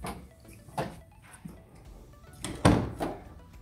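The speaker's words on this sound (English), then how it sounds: "which when you open this door so that it's not in the way" A door opening to a utility room off a home pantry: soft handling and faint knocks, then a single solid thunk partway through, with quieter knocks after it, all fairly close and low in level.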